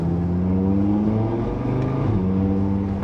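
A car engine in its dynamic drive mode revs loudly and continuously, a deep droning roar with rising and falling pitch sweeps, close and alone without talk.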